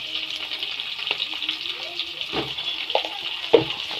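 Onions frying in a pan for a tomato curry leaf pickle, a steady soft sizzle running throughout with a few faint clinks and stirring taps on top.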